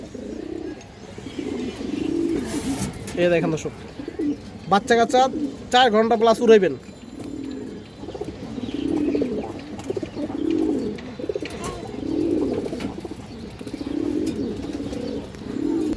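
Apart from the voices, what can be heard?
pigeons cooing, Khoragola breed pair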